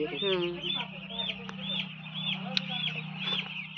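Chickens clucking and squawking in a poultry laying house, a busy flock heard close with repeated calls over a steady low hum, a voice briefly audible among them.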